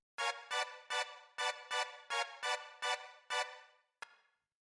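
A classic house stab layering a string sample with a choir sample at 125 BPM hits ten times in a bright, evenly spaced rhythm, each chord short and punchy with a quick decay, the last one clipped shorter.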